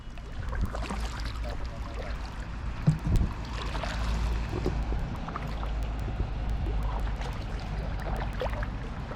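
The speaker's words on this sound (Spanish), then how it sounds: "El primer viaje en kayak que hacemos" Quiet flowing water with soft kayak paddle splashes and dripping, a gentle outdoor ambience on the Tambre River in A Coruña, Spain, with a faint knock midway.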